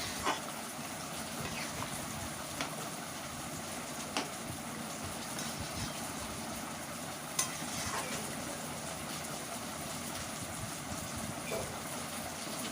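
Fried chicken pieces are stirred with a spatula in a pan of thick gravy, giving a steady sizzle with occasional scrapes and clinks, and no talking.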